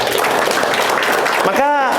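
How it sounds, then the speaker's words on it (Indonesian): A church congregation at a Sunday service applauds loudly in a thick, continuous wash of clapping, mixed with voices and a brief ringing tone near the end. "Berikan tepuk tangan untuk Tuhan."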